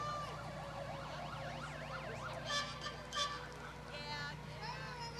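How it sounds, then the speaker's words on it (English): An ambulance siren at a Memorial Day parade cycles rapidly up and down in a wailing pattern, mixed with other sirens and horn honks, with a crowd murmuring in the background. "The Royal Oak Fire Department ambulance."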